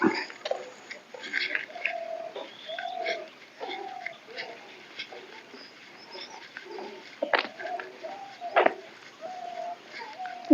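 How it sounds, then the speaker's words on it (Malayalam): Several birds call repeatedly in short, bright chirps and whistles, moderately near, over a quiet outdoor background at Vazhani Dam, with a couple of sharp knocks. "ഏതോ ഒരു പക്ഷി കരയുന്ന സൗണ്ട് പക്ഷികൾ കരയുന്ന സൗണ്ട് മാത്രമേ ഇവിടെ കേൾക്കുന്നുള്ളൂ"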